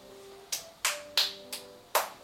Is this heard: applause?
yes